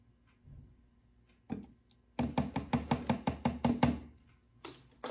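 Powdered gum is stirred into warm tap water for lemon-etch lithography prep, producing a quick run of about ten sharp rhythmic taps and scrapes against the container after a couple of isolated knocks.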